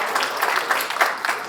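Audience applause after a helper is thanked at a live evening event, a short burst of dense clapping that swells and fades slightly, with no talk over it.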